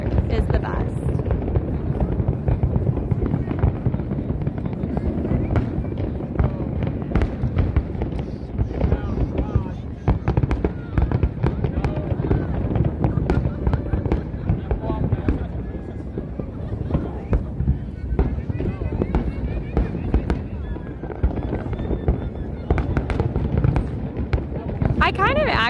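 Macy's 4th of July fireworks over New York City set off a continuous dense rumble of booms and crackling pops that carries on steadily for the whole stretch with no pause.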